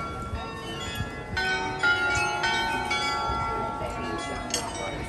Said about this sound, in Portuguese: Ai, eu amo o sino de igreja.